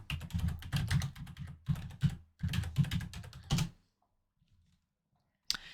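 Rapid keystrokes on a computer keyboard rattle in quick dense bursts for a few seconds, then stop into near silence before a single sharp key tap at the end.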